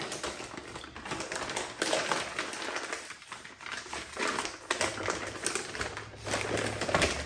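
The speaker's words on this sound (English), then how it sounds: "The plastic comes out really easily, like so." Plastic sheeting being peeled and pulled out of a large resin splash sculpture, heard as close, quiet crinkling, tapping and rustling in irregular bursts.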